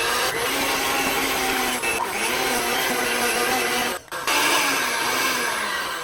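An electric mixer runs steadily on its low setting through lemon pound cake batter, a continuous whirring drone with a brief dip near the end, no talking.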